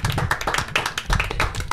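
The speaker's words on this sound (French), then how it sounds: "On peut s'applaudir bien fort." Studio audience and hosts applauding on a French-language Martinique TV show set, a dense burst of many hands clapping, loud and continuous for under two seconds.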